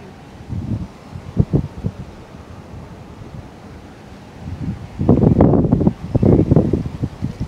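Strong outdoor wind buffets a GoPro Hero 10 rig with Rode Wireless Go microphones, coming in close, rumbling gusts that swell and fade, with the heaviest bursts in the later half.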